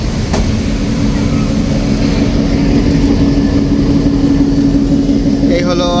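A commuter train pulled by a WDM diesel-electric locomotive runs along, a loud continuous rumble with steady engine drone inside the coach, and a person talks over it.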